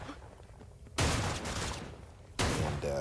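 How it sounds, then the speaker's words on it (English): Two loud bursts of dense gunfire erupt after a quiet start, sustained rattling shots filling the space in a firefight in the mobile game Cyber Hunter. "there's like gunfire all around everywhere"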